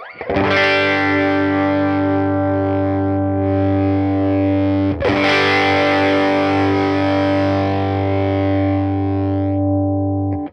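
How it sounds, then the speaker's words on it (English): Sustained electric guitar chords through a tweed amp model, a warm, slightly gritty, woolly, nasal tone, ringing out loudly, restruck once midway and left to decay. "this is a tweed sound, woolly, nasally"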